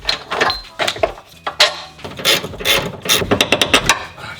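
Tools at work removing a suspension control arm from a second-generation Mazda 3: a rapid run of ratcheting clicks, metallic clunks and scraping knocks, close and irregular, with no talking.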